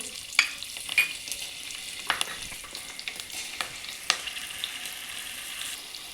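Chillies and asafoetida fry in oil for a fresh turmeric pickle: a soft sizzle broken by repeated sharp stirring clacks and scrapes at irregular intervals, no voices.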